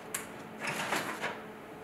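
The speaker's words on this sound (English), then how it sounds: "open the paper drawer, just pull it out, remove the A3 paper from the drawer" The paper drawer of a Fuji Xerox SC2020 printer is pulled out, giving a soft plastic click followed by a quiet sliding rattle and a couple of light knocks, faint and close in a quiet office.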